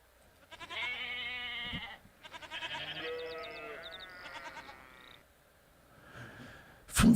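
Sheep bleating nearby in a series of wavering, nasal calls, several in a row with short pauses between, ending with a sudden loud bump.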